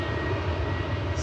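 A Ryanair passenger jet at Manchester Airport roars with a loud, steady, broadband engine rumble, close and unbroken, without any voices.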